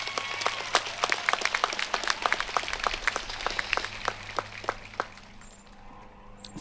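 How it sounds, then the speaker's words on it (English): Guests at the 107th Fullerton College commencement give a round of applause, crisp scattered claps from a modest crowd, fairly distant, thinning out and fading near the end. "Give them a round of applause, please."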